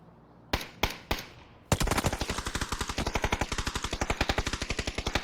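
A few separate gunshots, then a long rapid burst of automatic gunfire with a steady, fast rhythm, loud and close, in a PUBG esports match.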